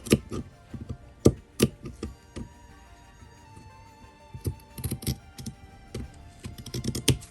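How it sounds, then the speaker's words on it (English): Wallet material being cut along a curve, heard as a close series of sharp snipping clicks in irregular bursts with quieter gaps between them, with no talking. "so you're going to cut this curve right here and go into this side and cutting this curve"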